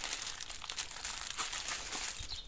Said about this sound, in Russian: Дальше берем наш пакетик и вот таким принципом его складываем.